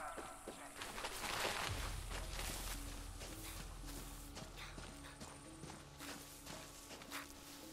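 Horse hooves clip-clop at an even walking pace in Far Cry 6, close and fairly quiet, with a low rumble and game ambience behind them.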